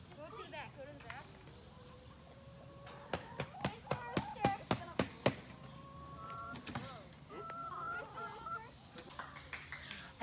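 Farm chickens cluck and squawk near a coop while being fed, with a run of sharp, rhythmic clucks in the middle and scattered calls throughout, under a child's and adult's voices talking.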